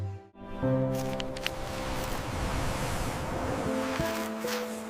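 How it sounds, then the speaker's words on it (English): Soft, continuous water sounds wash gently and evenly like distant surf, with a low steady tone layered underneath. "The water sounds soft."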